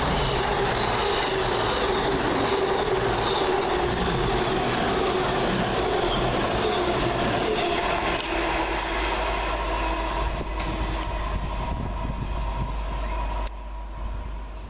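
An Avanti West Coast class 221 Voyager pair on a London Euston to Edinburgh Waverley service passes through Tipton station, a loud sustained roar of wheels and engines with rail squeal that drops off near the end.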